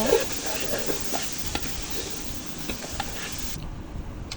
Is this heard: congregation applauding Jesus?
no